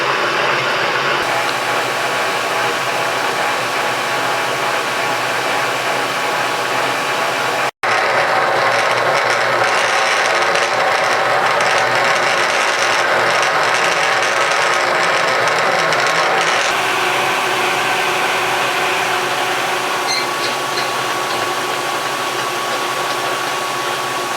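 A metal lathe cuts cast iron slowly, giving a steady, loud mechanical whir with a faint ratcheting texture that runs continuously, broken only by one brief dropout partway through, with no talk.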